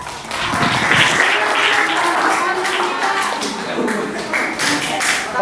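Students in a classroom clap together, a loud, sustained patter of many hands ringing close by for several seconds with no pause.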